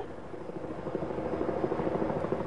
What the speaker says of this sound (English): a Delta Boeing 727 airplane, like this one, was cleared for takeoff from Dallas-Fort Worth Airport